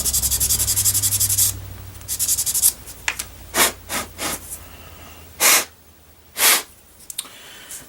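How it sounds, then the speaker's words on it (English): A knife edge scrapes excess material off a plastic model piece in several short, close rasping strokes separated by pauses, with steady rubbing noise early on. "You can just kind of scrape away the excess."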